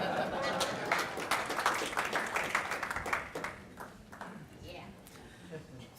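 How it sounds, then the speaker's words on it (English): An audience gives a strong round of applause at a military retirement ceremony, dense clapping for the first few seconds that then thins and fades to scattered claps, with voices murmuring beneath. "Thank you very much for that resounding applause"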